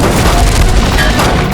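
Gunfire during a shootout in a Hindi TV crime drama, loud dense booming bursts packed close together across the whole stretch, heavy and continuous with no talk.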